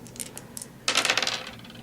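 Two dice tossed during a Warhammer 40k tabletop game: a few faint taps, then a sharp clattering burst as they tumble and rattle to a stop on the table.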